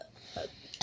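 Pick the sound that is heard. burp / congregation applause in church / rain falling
burp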